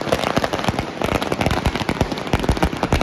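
Firecrackers burst during Diwali in rapid, irregular strings of sharp cracks and pops, loud and close, crackling continuously throughout.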